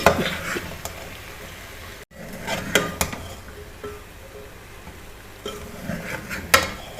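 Chopped okra being stirred with masala in a pan makes intermittent scraping and clinking of a utensil against the pan over a soft sizzle, with a few sharper knocks.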